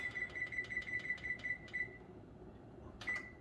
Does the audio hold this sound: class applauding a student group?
no